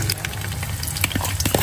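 Food frying in hot oil in a restaurant kitchen, with chopped onion and green chili on hand; a steady close sizzle runs throughout with small crackles and pops, and no talking.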